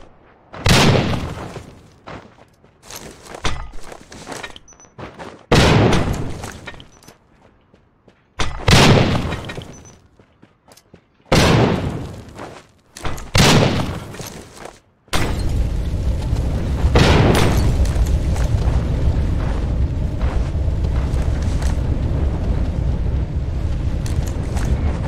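Bomb explosions in the mobile battle-royale game Rules of Survival: a series of sharp booming blasts with short gaps between them, followed by a long sustained rumbling roar of continuous detonations.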